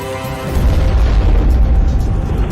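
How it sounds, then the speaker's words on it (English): A huge explosion erupts at a derailed train carrying volatile chemicals in a rail yard, a sudden deep boom that swells into a sustained loud rumbling roar. "We just had a huge explosion."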